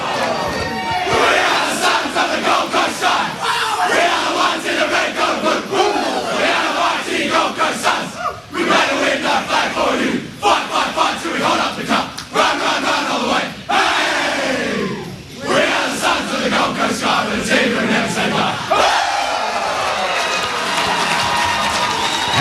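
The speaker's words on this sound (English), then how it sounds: "I think this song is going to be the loudest Gold Coast Suns song that we might have ever heard" Gold Coast Suns players huddle in a circle and belt out the team song after a one-point elimination final win over Fremantle, a loud, ragged chorus of voices with stadium crowd roar and cheering around it, continuous and dense throughout.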